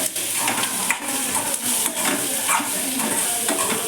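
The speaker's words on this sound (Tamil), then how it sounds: "வச்சு நல்லா முருக வர வரைக்கும் பொறுமையாக நம்ம அதை கிண்டிகிட்டே இருக்கணும்" Masala-coated potato fry sizzling in a pan while being stirred, with a steady close frying hiss broken by repeated scraping and light clinks of the spoon against the pan.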